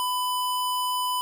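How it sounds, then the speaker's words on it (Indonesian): A buzzer in a simulated ultrasonic flood-sensor circuit sounds one continuous, pure electronic tone at steady loudness for just over a second, with no other sounds. "Ketika kita ubah ultrasonic, maka di Walkway kedua akan menyalakan buzzer dan juga LED warna merah"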